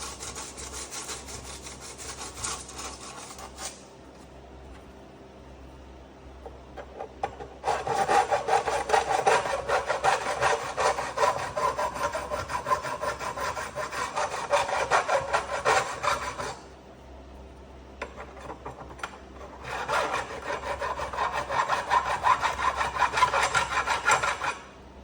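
Guitar frets filed along their edges with a metal file, giving a rough rasping scrape in long bursts with a short pause near the start and another near the end, close and fairly loud with no talk.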